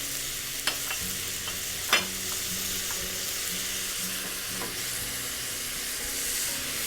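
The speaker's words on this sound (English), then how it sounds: "A little butter, saute this." Butter, grapes and cauliflower sauté in a pan for a cauliflower steak dish, giving a steady soft sizzle with a few sharp utensil clacks near the start and a quiet stir later, with no talk.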